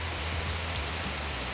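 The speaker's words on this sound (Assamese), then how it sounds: "হঠাৎ অহা বৰষুণ যাক আপোনালোকক অকণমান দেখালোঁ" Sudden rain falls steadily on surfaces outdoors, a dense, even patter of drops filling the short stretch without any voices.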